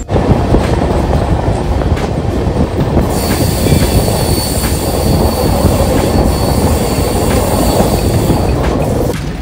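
The Jhelum Express passenger train on its Pune to Jammu run roars along the rails with a loud, continuous rumble. Wheel squeal and faint clickety-clack run throughout, heard from close by.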